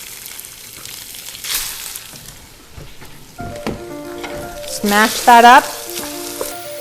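Ground beef (80-20 hamburger meat) sizzles in a pan with onions and garlic, a close hiss broken by scraping and clanking as the meat is broken up with a utensil; a person speaks briefly over it.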